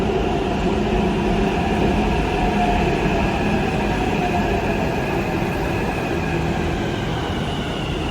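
A Hyderabad metro train runs with a steady, loud rumble and a hum of motion throughout, close and continuous with no voices.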